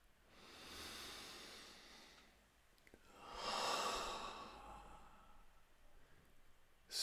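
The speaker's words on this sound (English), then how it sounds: "Slow, deep breathing" Slow, deep breaths drawn in and let out through the nose during a guided meditation, two long soft airy swells a few seconds apart, close and quiet with no talk.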